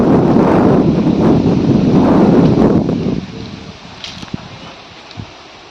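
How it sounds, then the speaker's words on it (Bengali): Strong wind roars and buffets loudly for about three seconds in a village in the morning, then drops to a quieter rushing with a few faint knocks. "এত হাওয়া, বিশাল হাওয়া বইছে।"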